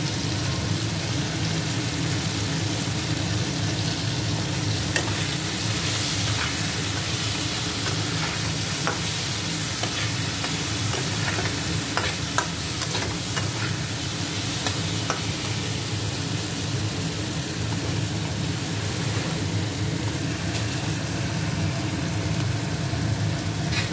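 Spices and mixed vegetables fry in a pan with turmeric, a loud continuous sizzle with scraping stirs now and then, close and steady throughout, no talking.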